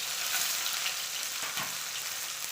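Chopped onion going into hot oil with mustard seeds and chillies, a bright continuous sizzle with a few stirring scrapes, close and steady throughout.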